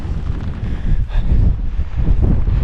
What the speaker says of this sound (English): The wind's coming over from that direction, so this crest will protect me from the worst of it.